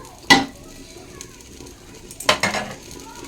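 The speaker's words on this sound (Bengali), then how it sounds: "চলো মাটনটা ভালো করে কষিয়ে নিই" Mutton being stir-fried in a clay pot: two distinct scraping strokes of a spoon against the pot over a faint sizzle, close by, with quiet gaps between them.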